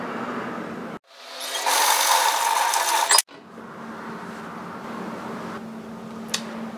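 A sewing machine sews two fabric edges together at one centimeter in a short, steady mechanical burst of about two seconds, close up, surrounded by quieter room hum.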